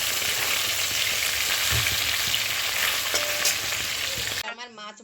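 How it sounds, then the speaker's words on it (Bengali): Small fish, seasoned with salt and turmeric, fry in hot oil in small batches and get turned over, giving a loud, continuous crackling sizzle with occasional stirring knocks that cuts off abruptly near the end. "উল্টে পাল্টে আমি মাছটাকে ভেজে নেব।"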